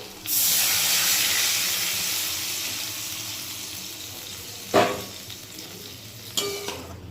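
Paneer soaking water is poured into a pan of masala frying for paneer masala, setting off a loud rushing sizzle that fades slowly over several seconds, with two sharp clanks partway through.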